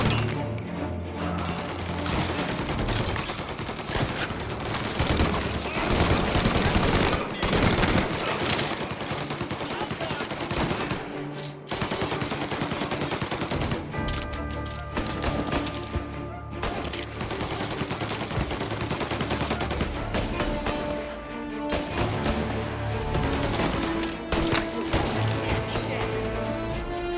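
Sustained gunfire in the Mafia Definitive Edition video game, with loud rapid bursts and repeated shots and crashes over about half a minute, close and dense, and brief pauses as shouting voices break in.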